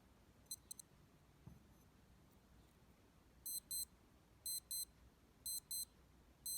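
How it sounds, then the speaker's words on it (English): A Casio DW-5600C digital watch alarm sounds in short, shrill paired beeps repeating at a steady rhythm, close and fairly quiet, after a few faint early chirps. "So this is the alarm mode. This is the button that I need to press so that it goes off"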